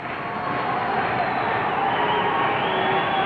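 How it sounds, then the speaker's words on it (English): Hockey crowd noise fills a Vancouver rink during a 1980 playoff game between Buffalo and Vancouver, a steady loud roar of cheering with applause blended in, continuous throughout with no break. "as you listen and hear the action of the crowd and see their rhythmic applause"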